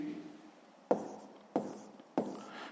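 A pen writes on paper in three short scratchy strokes at an even pace, close and fairly quiet, with faint room tone between.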